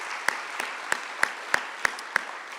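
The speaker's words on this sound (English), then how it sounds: "Big round of applause." Applause from a seated audience at a Santa Barbara county State of the County program, moderate and steady with a few sharper individual claps standing out at regular intervals, no talking over it.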